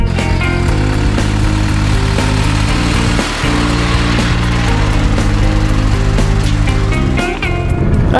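A MAN TGL 10.180 truck engine drones steadily during a drive, loud and close, with a constant low rumble and slight shifts in pitch throughout.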